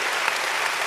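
A TV studio audience at a live outdoor entertainment show claps in steady, dense applause, loud and continuous throughout the short moment with no voices above it.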